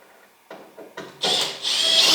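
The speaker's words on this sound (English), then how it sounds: "Then I can run the screws straight down" Screws driven with a power drill down into a bar-clamped wooden reloading bench: a few short bursts, then a louder sustained whir of the screw running in, close and loud, with no talk.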